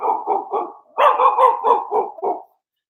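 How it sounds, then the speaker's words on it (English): Several dogs bark in quick bursts, a short run of three barks, a brief pause, then a louder, denser flurry of barking that trails off after about two and a half seconds, with no talk over it. "The dogs are barking."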